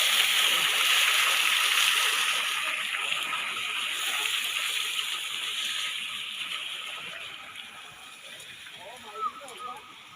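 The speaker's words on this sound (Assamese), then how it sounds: "এইটো ৱাটাৰ শ্বাৱাৰ বনাই দিছে" Water spraying from a public park water fountain shower, a steady broad hiss of falling, splashing water that holds throughout and eases slightly toward the end, with people talking faintly in the background.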